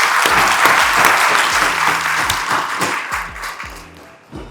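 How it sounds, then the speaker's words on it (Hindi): Steady audience applause in honour of the speaker Jay Kabir at a talk event, dense broadband clapping lasting the whole stretch and tapering slightly at the end, with faint low musical thumps underneath. "एक बार जय कबीर के लिए तालियां बजा दो"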